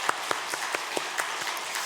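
A church congregation at a Sunday Easter service giving applause to God, heard as a sparse, rhythmic series of distinct claps at a steady beat, moderately soft.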